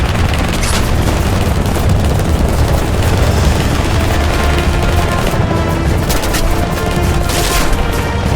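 Dense, continuous battle noise from a military helicopter combat video game: a helicopter taking hits amid loud booming explosions and rolling machine-gun fire, a roaring wall of sound with no talk.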